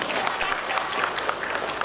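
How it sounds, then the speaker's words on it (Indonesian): Steady applause from a crowd at a May Day event in Makassar, dense clapping filling the whole stretch at moderate loudness with no pauses. "Boleh tepuk tangan untuk Kota Makassar kita tercinta."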